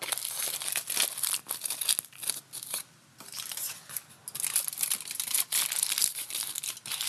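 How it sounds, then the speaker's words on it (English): Aluminium foil crumpled, pressed and shaped around a ball for a plate-tectonics model, a continuous close crinkling and crackling with brief pauses, loud and busy throughout without any voices. "Cut the other half of the foil in half again. Shape and press the 2 smaller pieces around the second ball."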